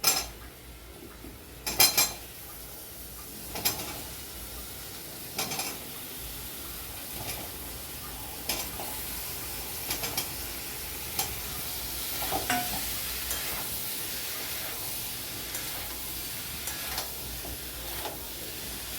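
Boiled potatoes are stirred into a pan of oil-separated frying masala: a steady sizzle with intermittent scraping and clinks of a spatula against the pan, close and fairly quiet.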